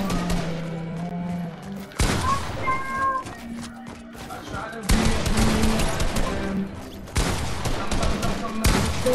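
Rapid bursts of gunfire in the video game Fortnite, several loud volleys with brief gaps between them, mixed with game sounds and occasional tonal effects.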